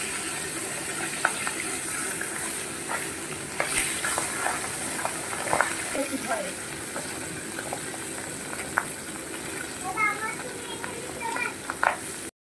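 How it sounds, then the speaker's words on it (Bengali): Fish heads frying in hot oil for a fish-head khichuri, a steady sizzle with scattered stirring and utensil clicks near the pan, and faint voice-like sounds in the background. "দেখুন আমার মাথা একটি ভাজা হয়ে গেছে, আমি এবার আরেকটি তুলতে দিচ্ছি"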